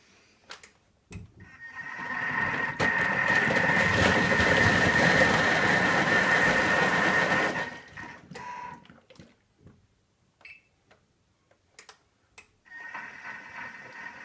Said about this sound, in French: À présent, en sens inverse, vitesse 1, le Thermomix ne coince plus.